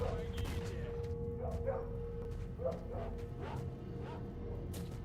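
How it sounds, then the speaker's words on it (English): A gunfight breaks out in the S.T.A.L.K.E.R. Shadow of Chernobyl video game: scattered gunshots and short bursts pop at a distance over a low ambient rumble, irregular and fairly faint. "Looks like there's some gunfight going on."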